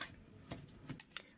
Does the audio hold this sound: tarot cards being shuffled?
yes